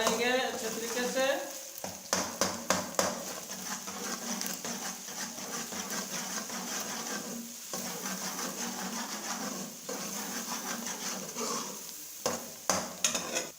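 Onions fry in a pot with small cardamom pods stirred in, for mash daal. A close, continuous sizzle is broken by repeated scraping and clinking stirs, with a few short bursts of movement.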